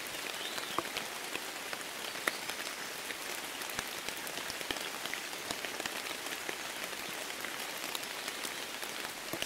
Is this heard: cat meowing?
no